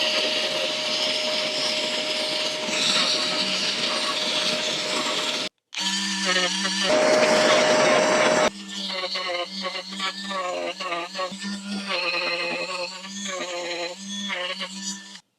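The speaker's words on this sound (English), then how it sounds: "I worked with the Dremel and with some sandpaper" A Dremel rotary tool and sandpaper work the rim of a Scout 800 steering wheel during restoration, giving a steady high motor whine up close that cuts off briefly and returns, then gives way to someone talking.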